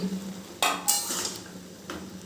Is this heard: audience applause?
no